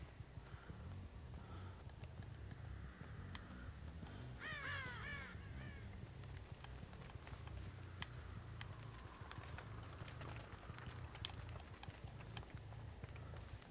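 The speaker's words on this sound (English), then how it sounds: "crows just flew back, which means they were over here" Crows caw in a video game landscape, a short cluster of harsh calls mid-way over a constant background bed of ambient game noise and light footsteps, with no speech.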